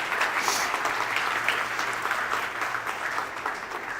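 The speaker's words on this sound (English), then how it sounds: "Please welcome them both with a huge round of applause." A conference audience at a national leadership conclave gives a big round of applause to welcome two guests, sustained crowd clapping with a steady, dense texture lasting about four seconds, with a faint low hum underneath.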